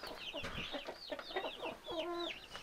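Hens cluck and chatter close by inside a warm chicken coop during a hard winter frost, several birds calling in quick overlapping bursts, with a longer drawn-out cackle near the end.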